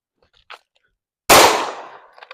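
A single loud, close gunshot from a Glock pistol, either a Glock 26 or a Glock 19 clone, at an outdoor shooting session, a sharp crack with a short decaying tail, preceded by a faint brief sound.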